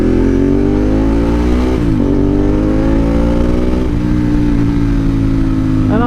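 Motorcycle riding through traffic, its engine loud and close, rising in pitch through two gear changes with brief drops between, heard from the rider's position with no talk.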